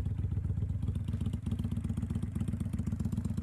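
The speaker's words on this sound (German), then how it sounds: "Eine Messung soll zeigen, wie laut das Motorrad ist." A motorcycle engine revs loudly and steadily during a roadside noise measurement, its deep pulsing throb continuous and close throughout, with no talk over it.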